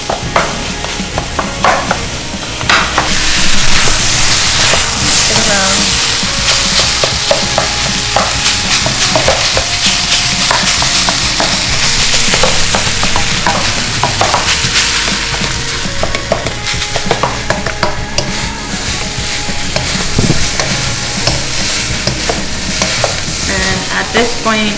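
Cooked rice fries in a pan while a utensil stirs and breaks it up, making a loud, steady sizzle with repeated scraping and tapping throughout, close and without talk.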